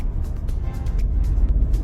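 Tata Nexon petrol automatic car pulling away under acceleration, a steady low engine drone with road rumble filling the short stretch, close and fairly loud.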